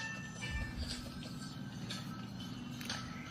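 A train in a video game gives a low, steady rumble with faint clicking and mechanical rattles, quiet and continuous with no talking.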